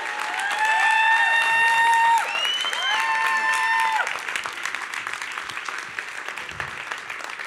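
A church congregation applauds and cheers in a dense, sustained wash of clapping with a few voices whooping over it, louder for the first four seconds before easing to a steady, slightly softer ovation.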